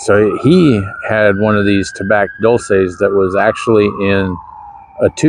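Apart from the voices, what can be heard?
No distinct noise like a dog, phone or traffic.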